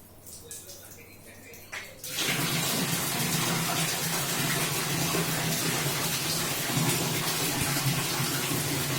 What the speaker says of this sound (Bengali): ট্যাপটা ছেড়ে দাও।